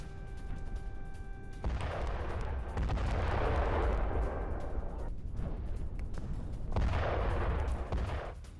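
Explosions and heavy blasts from US strikes on Iran, sustained loud rumbling bursts after a brief tonal hum, with two surges of crackling detonation noise and no voices.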